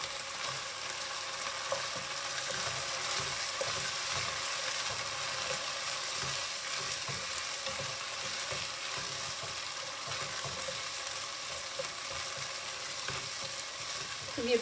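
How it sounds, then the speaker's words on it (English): Chopped tomatoes sizzle and fry gently on low heat in a pan, a steady, even crackle running throughout with the occasional stir, close up and with no talk over it. "So we fry just on low heat till such time the tomatoes turn a little pulpy."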